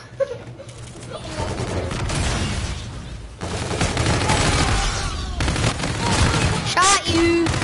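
Gunfire in the shooter game Infinite Warfare: dense, continuous rattling bursts of automatic fire and impacts fill the whole stretch, loud and close, with brief game tones near the end.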